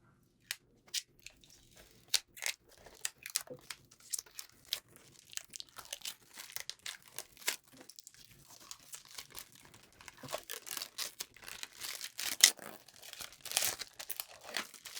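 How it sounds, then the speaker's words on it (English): Protective plastic film is peeled off the pickguard of a Fender '62 Stratocaster in a series of close, quiet crinkles and crackles, irregular and growing busier toward the end. "There's a small layer of plastic here to protect it, so let's just take this off real quick."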